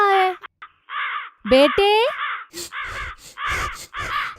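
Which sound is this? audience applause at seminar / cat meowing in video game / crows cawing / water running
crows cawing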